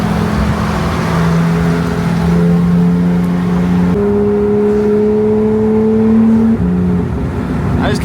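A Porsche GT3 engine revs hard close by, its pitch climbing through distinct gear shifts with clear steps between rising tones, loud and continuous over faint background talk.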